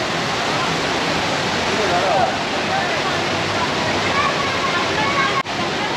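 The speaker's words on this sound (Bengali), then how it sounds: "এই যে ওয়াটারফলের সামনে চলে আসলাম" A waterfall near Gangtok in East Sikkim roars in a steady broadband rush, close and loud throughout, with faint voices of a crowd mixed beneath.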